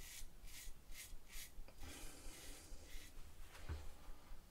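Scraping strokes of a straight razor with a carbon steel blade on a lathered face during a first pass with the grain, several short rasping sweeps close up, with brief pauses between them and no talking.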